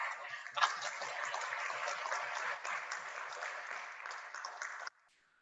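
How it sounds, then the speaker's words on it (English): Steady applause from a crowd at a public panel meeting on a garbage incinerator, many hands clapping continuously for about five seconds before stopping abruptly. "There's tremendous applause on this side"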